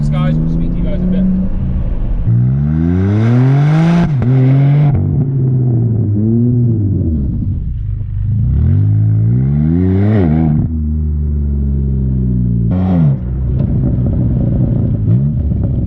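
A BMW G81 M3 Touring with a Remus OPF-back exhaust revs repeatedly, each loud blip sweeping up and falling away in a growling burst, while people talk nearby between revs.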